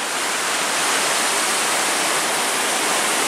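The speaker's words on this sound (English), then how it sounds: "Wow, is this a raging river?" The Devil River runs high and raging beside a trail bridge, a continuous, loud, even rush of whitewater filling the scene without voices.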